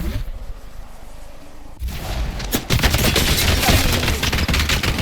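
Apex Legends gunfire starts after a quieter stretch and then becomes a dense, loud run of rapid shots and bursts that keeps going to the end.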